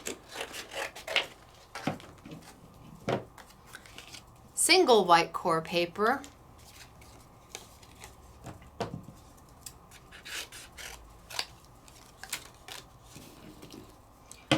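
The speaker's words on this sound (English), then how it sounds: "Let me just snip that off." Scissors make a brief run of quick snips through single-sided white core paper at close range, set between quiet stretches of talking.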